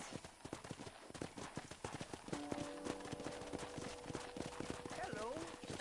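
Horses at a corral in Red Dead Redemption: rhythmic hoof clip-clops thud continuously at moderate distance, with a brief whinny near the end and a low murmur behind.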